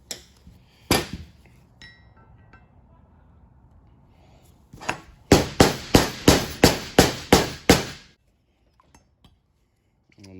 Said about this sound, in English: just hit the side of it just to depress it so it unpresses out of the caliper mounting bracket